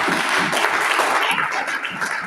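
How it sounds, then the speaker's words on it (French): A church congregation breaks into sustained applause and cheering for the Lord, a steady, loud wash of clapping from a crowd with no pause. "Est-ce que tu peux acclamer le Seigneur pour cela"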